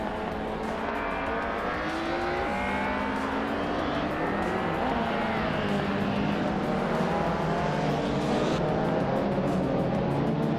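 Race cars in a video game street race at Marina Bay Street Circuit, led by a classic 1992 BMW, drone steadily with overlapping engine whines rising and falling in pitch as the pack pulls away from the start.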